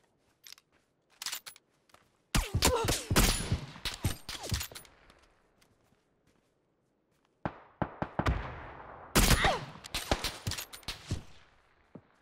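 Bursts of gunfire in the battle-royale game PUBG: a sharp volley of rapid shots, a long quiet gap, then another extended string of loud, close cracks fading toward the end.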